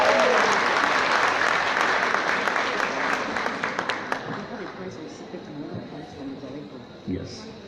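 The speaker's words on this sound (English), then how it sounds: "Please, can you clap for them," Audience applause at a 2016 graduation ceremony in a congress hall, dense clapping that thins into scattered claps, with voices murmuring as it dies away.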